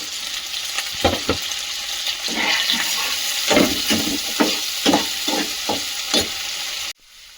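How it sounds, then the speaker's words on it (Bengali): Steady sizzling of onions and chillies frying in a hot pan, with repeated scraping stirs, ending abruptly. "পেঁয়াজ কাঁচা লঙ্কাটা একটুখানি নেড়ে নিয়ে টমেটো দিয়ে দেবো"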